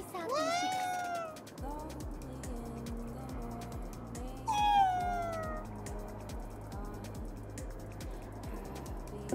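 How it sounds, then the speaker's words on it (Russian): A yokai cat in the game Ghostwire: Tokyo meows twice, a rising drawn-out call near the start and another a few seconds later, over steady rhythmic game music with a low pulsing beat. "что за кошка такая? Не кошка, а йокай"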